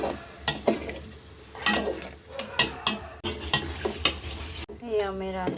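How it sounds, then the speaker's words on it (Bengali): Mango pieces being stirred in a pot for sweet mango murabba, with rhythmic spoon scrapes and knocks over a light sizzle, close and loud, with no voice. "এখন আমি আমটা ছেড়ে দিচ্ছি। পুরোপুরি ছেড়ে দিলাম, দিয়ে নাড়াচাড়া দিয়ে নিচ্ছি।"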